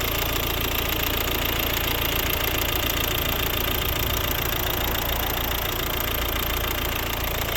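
A 2012 Volvo 1.6 D2 diesel engine idles steadily with a continuous, even clatter, recorded up close for the whole stretch with no voices.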